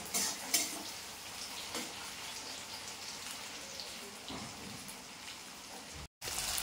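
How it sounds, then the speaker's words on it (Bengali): Ginger, garlic and onion sizzle in a pan for a duck curry, a steady close crackling hiss with small pops and a brief dropout near the end. "আদা রসুন পেঁয়াজ সব দিয়ে দিয়েছি। আরে ক্যামেরার কি প্রবলেম হয় কি জানি, দিয়ে দিয়েছি। ভাজা হচ্ছে"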